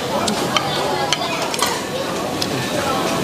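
Fresh live abalone sizzling in a hot wok, a continuous bright frying hiss broken by a few sharp clinks and scrapes of utensils against the metal.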